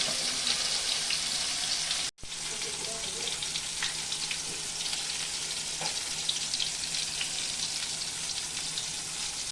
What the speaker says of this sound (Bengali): এই জলটা দিয়ে ভালো করে মশলাটা কষাবো